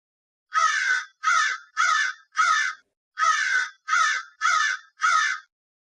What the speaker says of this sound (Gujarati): કાગડો બોલે